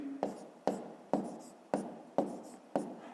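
A pen writes numbers by hand on paper for a fifth-grade maths exercise, making six evenly spaced, quiet scratchy strokes close to the microphone, each one sharp at the start and then fading.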